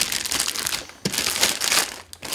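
Packaging for a Sony video-blogger camera kit crinkles and rustles close up in loud bursts, with a short pause near the middle and a quieter dip near the end.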